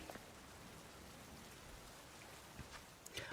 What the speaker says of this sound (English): And it's bloody raining.